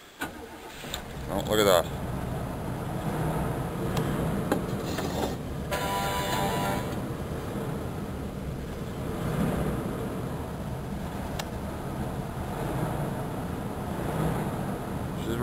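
A 1985 Chevrolet Caprice Classic engine cranks and catches, then keeps running rough and uneven under steady broadband noise, with a person talking briefly near the start.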